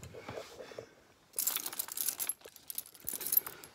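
Spare boat keys jangling and clinking as they are rummaged through, faint metallic rattles in short bursts after a quiet start, close by with no talking.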